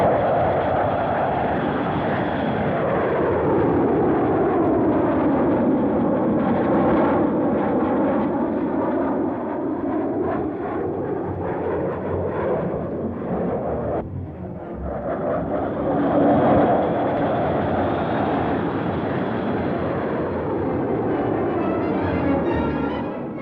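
Jet aircraft of the Black Arrows aerobatic team fly a formation display, a loud continuous roar with sweeping, rising and falling tones as the planes pass, holding strong from start to finish.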